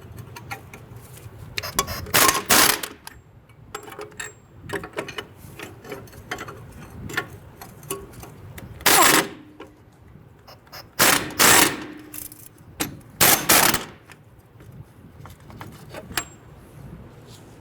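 A socket wrench loosens strut bolts on a 1994-2004 Ford Mustang, giving scattered sharp ratcheting clicks and short mechanical bursts, close and fairly loud, with quieter gaps between pulls.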